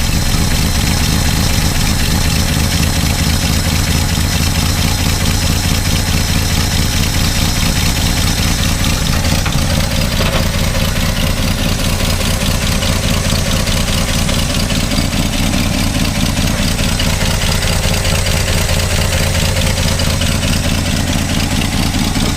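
A 1962 Plymouth Valiant, abandoned for over twenty years, idles steadily with an exhaust leak, a loud, rough, tractor-like chugging that runs unbroken throughout, close by with no talk.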